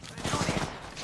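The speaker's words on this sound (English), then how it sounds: "Hey, they're shooting at me." In Apex Legends, gunfire aimed at the player comes as a quick cluster of muffled, closely spaced shots, brief and moderately loud, with a voice speaking faintly alongside.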